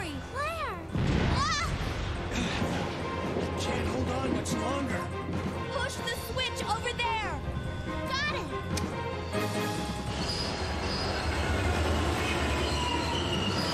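A train moves in the video game Biohazard 2, rumbling with loud metallic wheel squeals and clanks over a steady roll.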